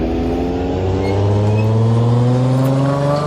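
Car engine held at high revs while drifting, a loud, continuous droning tone that climbs slightly in pitch and stays steady throughout with no talk.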